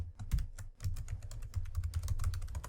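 Rapid typing on a computer keyboard while entering HTML code, a dense close run of crisp key clicks at an uneven quick rhythm with a brief pause early on, no voices.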